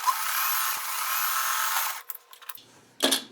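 A sewing machine topstitching a selvage strip onto a quilted crumb block, its motor whirring steadily for about two seconds, then stopping, then giving one short final burst.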